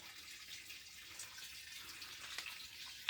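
Water runs steadily through a hose feeding a hobby soilless hydroponic growing setup, a soft continuous trickle and hiss heard alone at low level, with a slightly brighter splash near the end.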